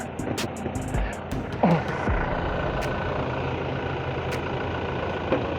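A 2016 Toyota Revo 2.4J pickup engine idles smoothly and steadily, a constant close rumble running the whole time, with a few faint clicks and taps near the start.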